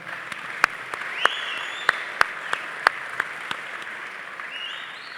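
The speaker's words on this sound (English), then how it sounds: "Round of applause for our panel." An audience claps for a panel at a Texas football Q and A, steady applause with sharp individual claps popping out near the front and a faint whistle rising over the crowd.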